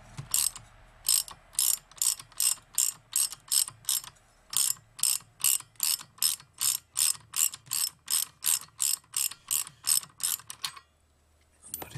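A hand ratchet backs off a nut during a Penguin engine and transmission teardown, producing a long, steady run of about twenty evenly spaced clicking strokes, close and alone, before stopping near the end.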